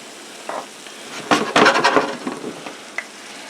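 Italian sausage and rigatoni sizzling in a skillet, with a steady hiss of frying and a few close scrapes and clatters of a utensil stirring the pan.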